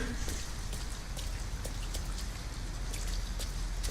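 Rain falling in the video game Detroit: Become Human, a dense, steady patter of drops with sharper spattering ticks scattered throughout, no voices.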